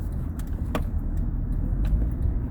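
Road traffic near a baseball stadium, with a broad steady rumble of cars and engines throughout and a few brief clicks and rattles on top. No one speaks.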